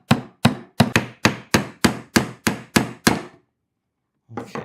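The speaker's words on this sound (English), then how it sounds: "And gentle with the hammer. Get that kind of started." Ten steady hammer taps on small nails driving into a beeswax-coated cedar beehive frame, evenly spaced and close, followed by a pause and one softer tap at the end.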